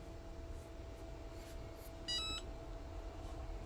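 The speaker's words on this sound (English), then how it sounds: "the timer decided to start" Short burst of electronic beeps from a timer during a sublimation crafting session, a quick cluster of high tones over a quiet room hum, with no talking.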